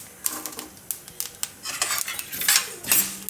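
Chillies, curry leaves and garlic roast in a pan for a Gujarati sesame potato curry, with sharp metallic clinks and scrapes of a spoon against the pan coming in irregular bursts over a faint sizzle.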